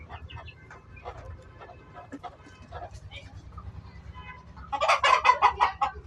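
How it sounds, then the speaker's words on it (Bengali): Egyptian Fayoumi chickens on a poultry farm give soft scattered clucks, with a voice talking nearby, then a louder burst of busy clucking near the end. "মুরগি আছে এই কয়টা।"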